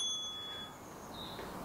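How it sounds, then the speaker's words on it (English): A bell rings in a gym workout session to signal the start of a one-minute exercise station, a clear tone held for most of a second and then a softer ring, over low room noise. "Just listen out for our bell."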